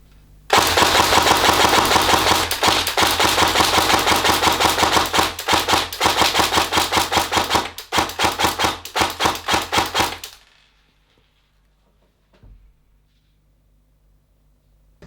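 A Novritsch SSR77 airsoft electric gun fires 0.32 g BBs at cans roughly 30 metres away. Loud, rapid full-auto bursts rattle for about ten seconds with brief gaps, then give way to near silence.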